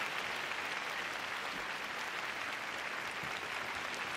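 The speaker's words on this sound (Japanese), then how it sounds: "最終滑走、松池に拍手が送られています。" Steady, dense applause from an arena crowd after the final short-program skate at the 2022 Japanese figure skating nationals, a continuous wash of distant clapping with no lulls.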